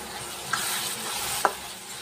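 Tomato puree and masala frying in oil for sev bhaji, a soft continuous sizzle with two brief scraping stirs of a spoon in the pan.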